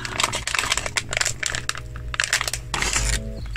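Crinkly plastic wrapper of a Japanese snack being twisted and pulled at, loud close rustling and crackling bursts in an uneven rhythm with short pauses.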